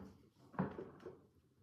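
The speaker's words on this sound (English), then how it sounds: "So let's just give another shuffle." Oracle cards shuffled by hand, giving a quiet, brief riffling burst of papery flutter with softer handling rustle around it and no talking.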